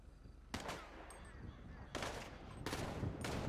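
Gunfire in a role-play video game: several sharp bursts of shots, quite faint and distant, spaced unevenly across a few seconds over a low background hum.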